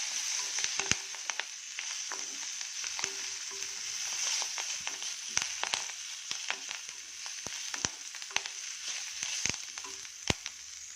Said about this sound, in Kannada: ಒಂದು ಚಿಕ್ಕ ಹೋಳು ಕಾಯಿ ಹಾಕ್ಕೊಂಡಿದ್ದೀನಿ ಇದು ಸ್ವಲ್ಪ ಬಾಡಿಸ್ಬಿಟ್ಟು ಆಫ್ ಮಾಡಿಬಿಡ್ತೀನಿ